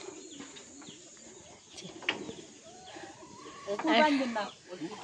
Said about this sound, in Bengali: আরো আছে সারা মুরগি